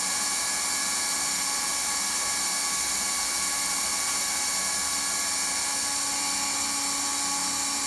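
A hot air welder heat welding the seams of vinyl sheet flooring gives off a steady, loud, high-pitched whine with a constant blowing hiss, unbroken and close, with no talking.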